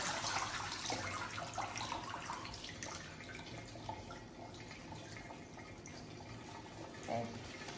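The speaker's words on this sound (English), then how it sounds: "one final little agitation, and then I pick it up and I drain it." Washed spinach greens lifted from a water-filled trough, water splashing and pouring off as it drains, a fairly close continuous watery rush that eases toward the end.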